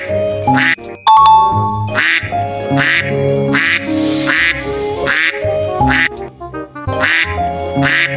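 A costumed Betawi Ondel-ondel performer imitates a duck with a voice, giving a long series of loud, nasal quacks in quick bursts that repeat over several seconds, close and clear.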